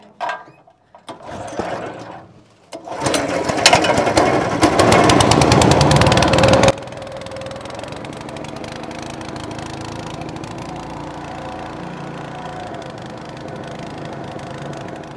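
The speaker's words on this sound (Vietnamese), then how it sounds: "Chúng ta nổ máy và về thôi." A small boat engine on a river is started with a few sputters, roars loudly at high revs for several seconds, then settles into a steady, lower running drone.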